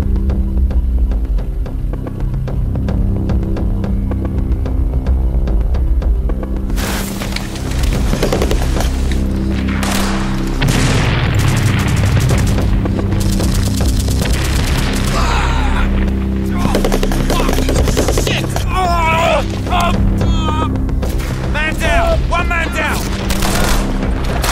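Heavy blast and gunfire-like booms from a targeted vehicle being destroyed during a Swiss Army grenadier live-fire exercise, loud and sustained with rolling low rumble and sharp bursts throughout.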